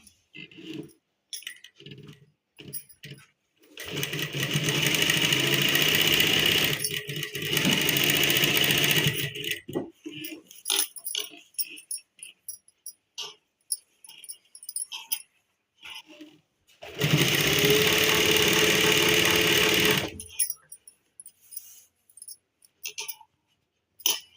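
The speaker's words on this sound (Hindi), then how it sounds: "उसके बाद हम कन्नी की सिलाई मार लेंगे" An electric sewing machine runs a hem seam on loose trousers in two long, loud bursts of steady whirring stitching, separated by quiet gaps filled with faint handling clicks and rustles.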